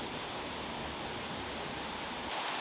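A waterfall on the path down from Myra Pond near Muggendorf rushes as a steady, dense, broadband roar that is loud and continuous, with no voices.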